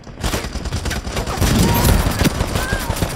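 Loud, chaotic gunfire cracks and bursts throughout, including a no-scope sniper rifle shot in the video game Ironsight, with a voice talking beneath the shooting.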